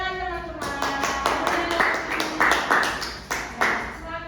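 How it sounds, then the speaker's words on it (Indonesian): Classmates in a vocational animation class clap after a storyboard presentation, a scattered run of hand claps under a teacher's voice, with rhythmic bursts spread across the room. "beri tepuk tangan teman-teman."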